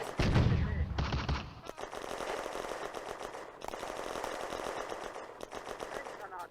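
Rapid machine-gun bursts and gunfire crackle through a wartime skirmish in the Firefight Ost Front game, with German Panzers and Grenadiers holding a fire line, a loud heavy blast opening before sustained dense firing continues.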